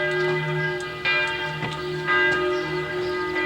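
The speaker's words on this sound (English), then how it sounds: "Hear the church bells?" Church bells ring continuously from a town wall in Germany, a steady layered peal of sustained tones with repeated strikes, fairly loud and alone without talk.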